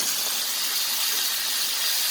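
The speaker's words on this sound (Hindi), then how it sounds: "टमाटर को अच्छा सा भूनेंगे इसके साथ" Peeled tomatoes frying in hot oil in a karahi for chicken tikka karahi, a loud, steady, unbroken sizzling hiss close by.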